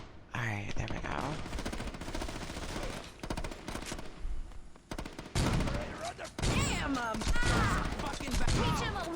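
Shotgun fire in the video game Saints Row: rapid loud gun blasts in bursts amid chaotic game noise, with a voice talking between and over the shots.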